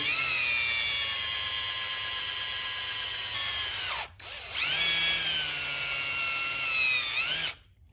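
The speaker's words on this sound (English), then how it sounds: "and you drill your hole" A power drill drilling a hole in a Yamaha Banshee carburetor whines at high speed, pausing briefly midway before spinning up again and cutting off abruptly.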